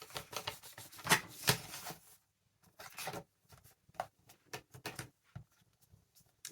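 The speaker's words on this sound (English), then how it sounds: "So I'm just going to come along and cut that piece off" Scissors snip and rustle through old book pages being trimmed to about 8 inches for junk journal pocket pages, in a quiet room with irregular close crisp cuts and paper handling.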